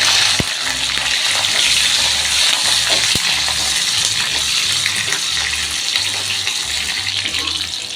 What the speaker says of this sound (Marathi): मी यात आता पहिले बटाटे टाकणार आहे. आता वांगी टाकणार आहे.